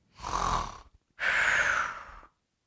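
A voice imitates snoring: two drawn-out rasping breaths, one short and one longer, with a brief pause between them.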